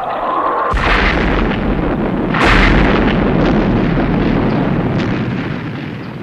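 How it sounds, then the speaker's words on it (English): Missiles fired to clear a nose cone during a rescue, a loud sustained roar opening with a sudden blast and a second heavy boom midway, then rumbling on without voices. "You've got to get that nose cone clear by firing the missiles."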